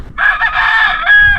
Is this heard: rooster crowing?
yes